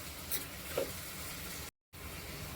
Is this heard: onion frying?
yes